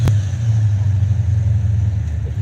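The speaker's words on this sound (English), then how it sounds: "With the small block Chevy" A small block Chevy V8 idles with a deep, steady low rumble at a drag strip, close and loud, with a sharp click at the start and no talking over it.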